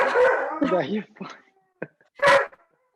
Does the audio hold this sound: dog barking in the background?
yes